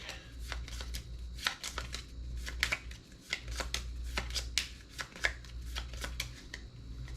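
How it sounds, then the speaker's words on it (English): Cards are shuffled repeatedly up close, a quiet series of crisp riffles and taps in an irregular rhythm. "We'll shuffle up the objective deck."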